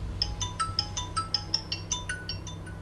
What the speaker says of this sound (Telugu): ఒకసారి మీకు సెట్టింగ్స్లోకి వెళ్ళి రింగ్ టోన్ వినిపిస్తాను చూడండి